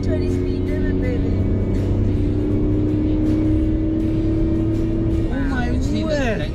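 An Alfa Romeo Giulia Quadrifoglio engine in race mode holds a loud, steady drone, then revs up sharply near the end. Someone talks over it throughout.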